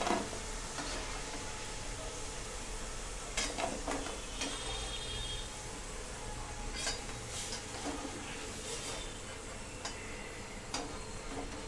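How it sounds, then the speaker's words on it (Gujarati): Homemade potato chips frying in hot oil on a medium flame, a quiet, steady crackle with scattered ticks and light clinks from the pan. "હવે આપણી આ ચિપ્સ તળાઈ રહી છે"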